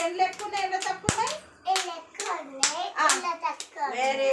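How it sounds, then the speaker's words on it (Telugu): Young preschool children at an anganwadi clap their hands in short, uneven bursts mixed with children's voices and an adult talking, one sharp clap standing out near the middle. "జాను క్లాప్స్ కొట్టండి"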